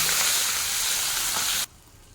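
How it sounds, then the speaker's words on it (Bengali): Just-flipped pomfret sizzles in hot oil with a loud, even crackle that cuts off abruptly shortly before the end, leaving quiet. "এই মাছটাও একটু ভাজা হয়ে গেল।"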